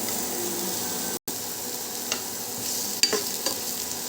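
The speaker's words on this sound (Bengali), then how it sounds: "তো প্রথমে পেঁয়াজটা দিয়ে আমি একটু হালকা ভেজে নেব," Onions fry in white oil in a wok with a continuous close sizzle and occasional stirring clicks and scrapes. The hiss briefly cuts out once.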